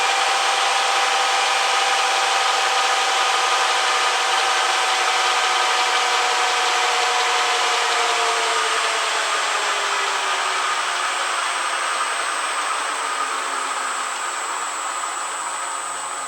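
Electric motor driven by a Vesper frequency converter spinning down as the drive frequency drops, a steady broadband whir with a whining tone that slowly falls in pitch and fades slightly over time, with no talking.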